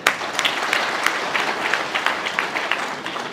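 Crowd applause at a political campaign rally in Kurukshetra, Haryana, a steady wash of many hands clapping at moderate loudness with sharper individual claps.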